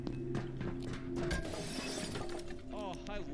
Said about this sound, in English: Does my lightning attack destroy the glass fully?